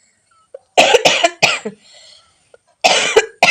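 Harsh, close coughing in several bursts, a pair of quick coughs followed by another, then a final cluster after a short pause.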